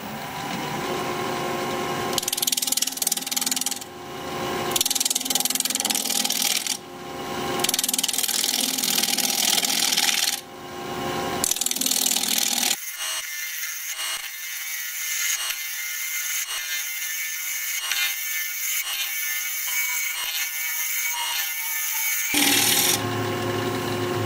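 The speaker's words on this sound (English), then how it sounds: "We're gonna be turning at 1200 RPM, freshly sharpened 5/8 inch bowl gouge" Wood bowl spinning on a lathe at 1200 RPM under a freshly sharpened 5/8 inch bowl gouge, giving a steady loud hissing scrape with brief pauses early on, then a continuous thinner cutting whine, close and without talk.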